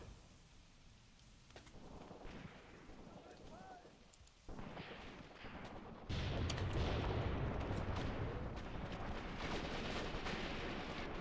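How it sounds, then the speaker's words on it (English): Distant, rumbling gunfire and artillery-like booms from soldiers in the Graviteam Tactics war game, building into a steady, heavy barrage with no talk over it. "Still, some of my guys shooting"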